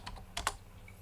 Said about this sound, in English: what Giovanni is typing